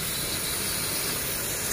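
A steady, close water spray hisses continuously as it cleans an air conditioner unit, a dense broadband rush with no pauses or voices.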